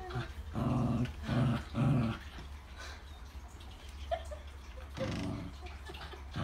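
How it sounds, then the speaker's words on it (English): A dog growls at bath time in a low, rumbling burst of three close growls, then falls quiet before one more growl near the end, fairly loud with no talk over it. "you want to growl?"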